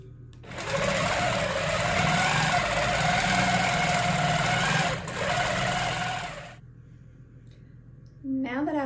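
A long-arm quilting machine stitches a child's quilt with a steady, loud mechanical hum and rapid needle chatter that runs for several seconds, briefly dips, then stops, leaving a quiet room and a voice starting to speak.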